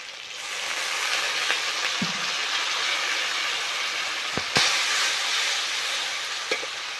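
A splash of water hits turmeric in a hot pan while cooking a large catla fish with cauliflower, releasing a loud, even steam hiss that continues throughout, with a few small clinks and taps.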